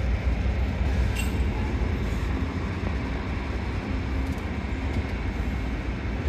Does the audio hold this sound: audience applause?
no